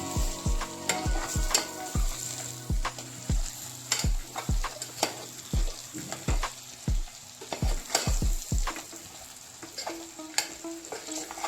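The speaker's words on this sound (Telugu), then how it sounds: "కొంతసేపు వంకాయని మగ్గనిద్దాం ఇందులోనే" Stuffed brinjal curry (gutti vankaya) sizzling in a pan, with a steady frying hiss broken by a regular series of sharp knocks from stirring, close and fairly loud.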